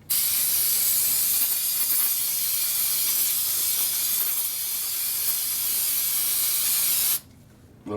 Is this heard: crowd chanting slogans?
no